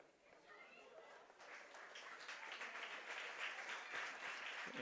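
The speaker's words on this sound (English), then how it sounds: "And he gets a nice round of applause." Spectators at a high school baseball game between St. Louis Park and Chaska give a faint, distant round of applause that swells gradually and keeps building to the end, with a murmur of crowd noise underneath.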